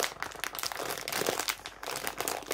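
A crinkly plastic food packet from a health food shop is tugged and twisted open by hand, a close, continuous crackling and rustling with brief crunchy bursts, no voices.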